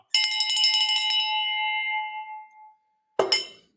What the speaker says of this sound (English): There's some bell ringing for everybody that was missing it.